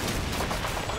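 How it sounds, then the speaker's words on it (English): Explosions and gunfire in the video game Call of Duty 2, set in a Hill 400 battle mission, a dense, loud barrage of blasts and rapid shots packed into one second. "Good lord at the explosions."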